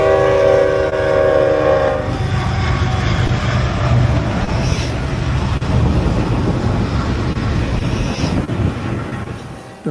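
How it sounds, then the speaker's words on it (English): A freight train rolls steadily along an active railroad track, loud and close with a continuous rumble of wagons, a sustained horn blast sounding at the start, and wind buffeting the microphone. "trains still carry goods across an active railroad track"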